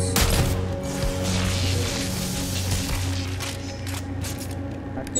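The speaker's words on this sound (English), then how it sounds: "this gun is so useful against swarms" Rapid gunfire from a weapon cutting through swarms in the video game Dead Space 3, with a loud burst of shots up front and scattered cracks later over droning, tonal game sound.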